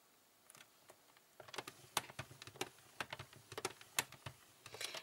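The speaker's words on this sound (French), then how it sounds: "je vais passer plusieurs fois mon outil pour marquer correctement cette marque de pli" Tool scoring fold lines into paper for a craft Easter egg case, a series of faint, quick scratching clicks in irregular bursts after a quiet start, heard close and alone.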